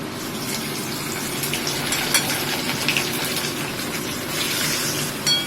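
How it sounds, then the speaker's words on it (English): Baby potatoes deep frying in mustard oil over a low flame, a steady, loud bubbling sizzle that runs throughout with a few sharper crackles and pops. "Now we're going to deep fry it into"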